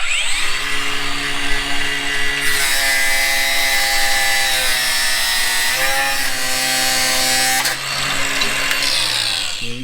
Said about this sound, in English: Now I've got access with the grinder.